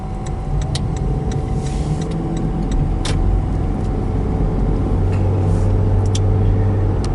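A car passing on a rural road, heard as a steady, fairly loud engine and tire rumble that holds close throughout, with no talking.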